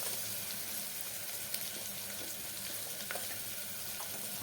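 Vegetables and tomato frying in a pan for a mixed vegetable rice dish, a steady broadband sizzle with occasional stirring clicks and scrapes throughout, no voices.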